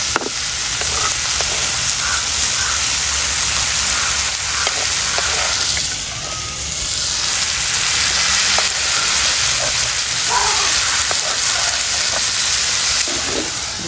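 Squid sautéing in a pan with fenugreek, a loud, steady sizzle and hiss of frying with occasional stirring scrapes and pops, continuous and close throughout.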